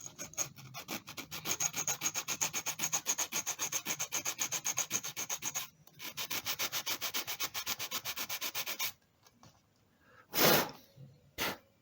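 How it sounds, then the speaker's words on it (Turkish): Rapid back-and-forth scraping of sandpaper on a sound system button contact before soldering, a fast steady rhythm with a brief pause, then stopping, followed by a single breathy puff. "Şöyle zımparamızı yapalım."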